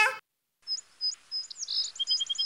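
Sparrows perched on high electric wires chirp in quick bright bursts, several short tweets overlapping and growing busier toward the end, after a brief opening noise and a moment of silence.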